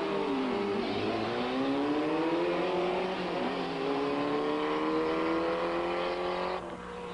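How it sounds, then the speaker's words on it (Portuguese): A Ford Escort race car laps the Interlagos circuit, its engine revving steadily with rising and falling pitch as it accelerates and shifts, loud and continuous throughout with no talk. "Fogaça e Manzini nesse Escort deram várias voltas no circuito de Interlagos"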